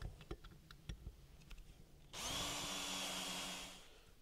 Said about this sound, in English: We're going to drill that out a little bit more.